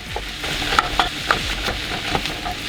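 Plant-based chorizo and beef crumble being broken up and stirred in a hot pan, a close, steady sizzle punctuated by several sharp utensil scrapes and taps.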